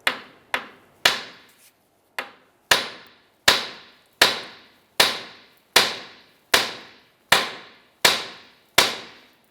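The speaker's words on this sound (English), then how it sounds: "use a hammer, and you're going to hit the knuckle right here" About a dozen sharp metallic hammer blows land on the steering knuckle of a 1999-2004 Jeep Grand Cherokee, each ringing briefly, in a steady rhythm with a couple of short pauses, close and loud.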